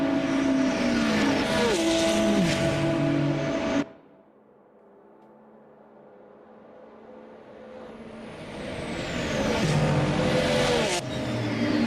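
GT3 race cars at Spa-Francorchamps roar past close and loud, engine pitch sweeping down under braking, then a lull before another car approaches and swells to full volume at high revs.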